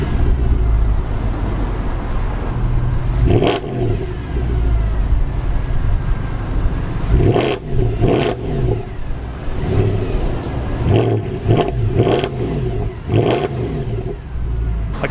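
Mercedes C63 AMG 507 estate with a Miltech secondary cat delete, its engine running with a deep rumble and several sharp throttle blips and revs, each a quick loud surge that falls back to idle, close by with no talking.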